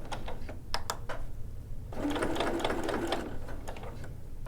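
Sewing machine back stitching a welt pocket: a few quick clicks, then a short rapid stitching burst of steady mechanical chatter, close up with no talk.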